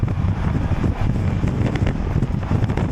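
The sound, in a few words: wind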